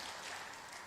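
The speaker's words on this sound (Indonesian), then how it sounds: "Boleh tepuk tangan lagi, boleh." Audience applause at an Indonesian political address, a dense steady wash of many hands clapping through the whole short moment, fairly loud and continuous with no break.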